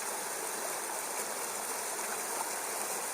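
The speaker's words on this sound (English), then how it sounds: "Certainly very noisy for a little waterfall." A small waterfall tumbling into a rapid on a burn near Slaley and Healey Mill roars in a steady, dense, close rush of water with no pauses, with no voices heard.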